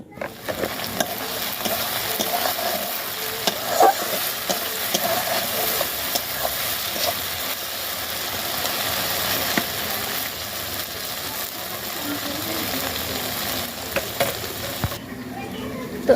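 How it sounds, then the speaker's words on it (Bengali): Okra (bhindi) frying in a pan sizzles steadily and close for the whole stretch, with occasional utensil clicks and stirring scrapes, and a faint voice at moments. "তো আজকে ভেন্ডিও ভাজি করব।"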